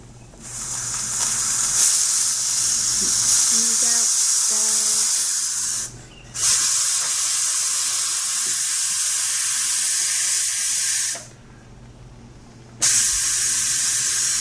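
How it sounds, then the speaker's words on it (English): Loud, steady hissing of steam venting from a pressure canner while canning green beans, broken twice by brief silences before it resumes at full force. "So it's letting out all the steam"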